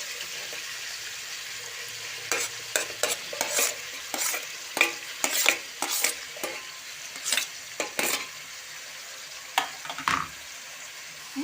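Onions and green chilies frying for chicken curry, a low sizzle under repeated sharp clanks and scrapes of a utensil against the pan, heard close and clustered mid-clip.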